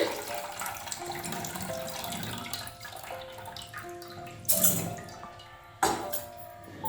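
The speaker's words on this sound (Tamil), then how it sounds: "இந்த பச்சரிசிலேருந்து தண்ணியெல்லாம் வடிச்சிட்டு" Water trickles and splashes softly as it drains from soaked raw rice, with a couple of sharper pouring bursts and light clinks near the end, fairly quiet and close.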